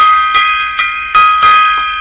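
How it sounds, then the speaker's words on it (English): Gong strikes, four sharp metallic hits roughly evenly spaced, each ringing on with a bright shimmering sustain that overlaps the next, loud and close with no talk. "random gong solos"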